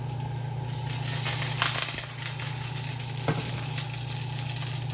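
Pork browns in a pan on a stove, giving a steady, moderate sizzle over a low hum, with a couple of light clinks from stirring.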